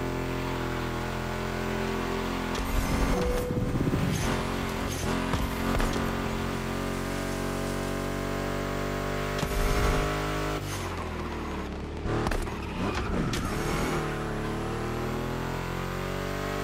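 A Ford Mustang GT muscle car engine in the video game The Crew Motorfest roars and revs continuously, rising and falling with gear changes, loud and close throughout with no talking.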